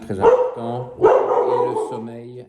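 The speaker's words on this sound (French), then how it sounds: "Désolé pour les aboiements" A dog barks repeatedly close by, short harmonic woofs in quick succession, overlapping someone speaking French.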